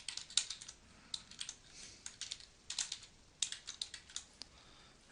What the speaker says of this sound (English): I'm just going to type in first name